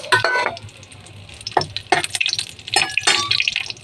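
Cinnamon, bay leaves, dried chillies and cardamom dropped into hot mustard oil set off sharp bursts of spitting sizzle and clatter, separated by quieter stretches of low frying.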